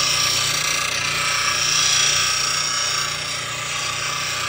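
Grinding wheel reshaping the bevel of a bull gouge, a continuous loud abrasive whir and hiss of steel against the wheel, steady and close for the whole stretch.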